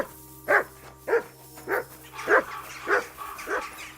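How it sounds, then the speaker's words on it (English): A dog in Kingdom Come: Deliverance II barks six times at a steady, roughly half-second pace, each bark clear and fairly close, over a low steady hum. "What are you barking at, boy?"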